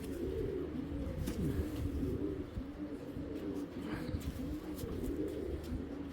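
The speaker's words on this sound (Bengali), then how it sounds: "পুরান জাতের এক জোড়া বাঁকা কবুতর" A pair of old-breed curved-beak pigeons coos in low, rolling phrases that repeat throughout, close and fairly soft, with faint background noise.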